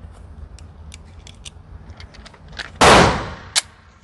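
Gunfire from a Canik Mete MC9 9mm pistol at a shooting range: one loud, sharp shot with a brief echo and a quicker second report just after, preceded by faint clicks, with no talk.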